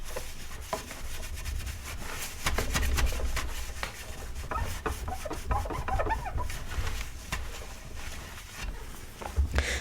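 Brisk rubbing and wiping as a craft work surface is cleaned with a dash of hand sanitizer, in repeated close strokes of uneven loudness with no voices.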